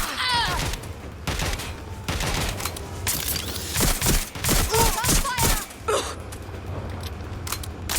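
Gunfire in the video game Watch Dogs Legion, with bursts of sharp shots and clattering impacts over a dense game soundscape, loud and close, while a player speaks briefly.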